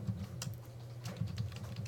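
Rapid keystrokes on a computer keyboard during a programming lecture, a steady run of light clicks with a low background hum, quiet and close, no voices.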